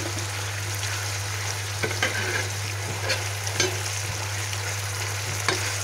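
Steady sizzling of fern tips stir-frying in a pan used for frying squid, with occasional clicks and scrapes of stirring over a constant low hum.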